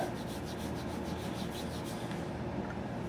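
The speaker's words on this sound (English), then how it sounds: "I'm going to use this stick, and I'm just going to put on a drop at a time. And then I'm going to rub that drop in." A small stick rubs a drop of finish into a wooden rifle stock from a Great Plains rifle kit, making a quiet, continuous, gritty rubbing close by with faint rhythmic strokes.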